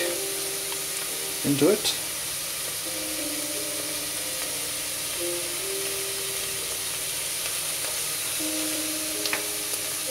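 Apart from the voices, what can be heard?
onion and garlic frying in olive oil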